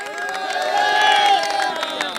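A crowd at an election rally in Prayagraj cheers and shouts together in a steady, dense roar that swells slightly midway through a short burst, with no single voice standing out.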